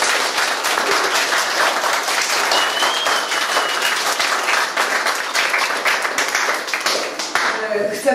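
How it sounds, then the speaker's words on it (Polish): A large audience applauds at a staged Familiada game-show parody, dense continuous clapping holding at a steady, loud level throughout with no voices breaking through. "Oklaski."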